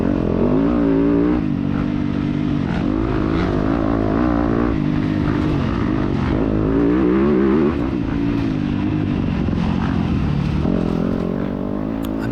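A 250F-class dirt bike engine roars and revs continuously during a cross-country race, loud and close from the rider's position, pitch rising and falling with throttle and gear changes.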